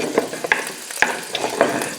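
Ingredients for a pork and black bean stew sauté over raised heat, giving a bright continuous sizzle punctuated by several sharp spoon knocks and scrapes against the pot, close and fairly loud, without speech.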